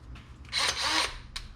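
A short whine of a battery drill spinning up for about half a second, followed by a quick second burst, close by, drilling a hole during a boat restoration.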